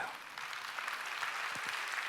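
A church congregation applauds during a worship service, a dense and even burst of clapping from many hands heard throughout.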